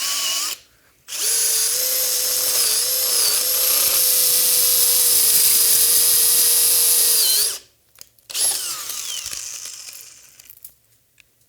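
A power drill bores a hole to mount a robot signal light, whining loudly and steadily for about six seconds after a brief start, then stopping, followed by a short rougher burst that winds down.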